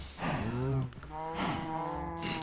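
Cows in Minecraft Bedrock Edition give a couple of drawn-out, low moos in a row, fairly quiet and with no talking over them.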